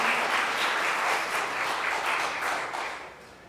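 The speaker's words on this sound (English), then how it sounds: "Let's give our kids another round of applause" Dense, even applause for children at a Lenten vesper service. The congregation claps steadily, then tapers off toward the end.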